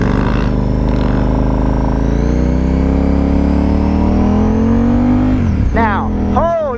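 A 2012 KTM 990 SMT supermoto touring motorcycle pulls hard from the rider's seat, the engine note climbing steadily for several seconds before dropping sharply at a shift, then revving up again.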